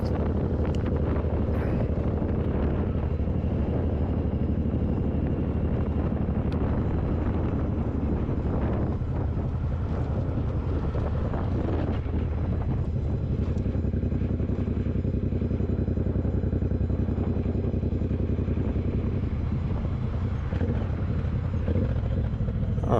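A motorbike rides west along the R64 road toward Bloemfontein, its engine droning low and continuous under heavy, steady wind rush over the microphone.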